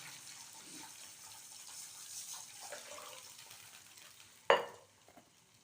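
Water poured into a cooking pot with cumin, about three tumblers measured in while making pidi kozhukattai, a soft running splash and faint sizzle, ending in a sudden sharp burst of sound before quiet.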